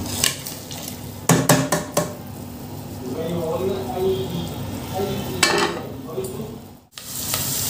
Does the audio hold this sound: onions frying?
yes